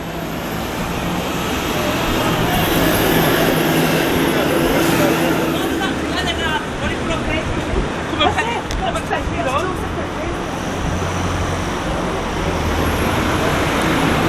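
Dense traffic rumbles steadily around Barnsley bus station in the town centre, buses and cars passing continuously with a hum of distant crowd chatter and voices mixed in.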